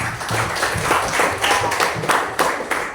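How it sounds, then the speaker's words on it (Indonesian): Schoolchildren in a classroom clap for a classmate, a short burst of uneven hand claps from a small group, fairly close and loud, fading slightly at the end. "Coba kita beri tepuk tangan kepada Chelsea nak."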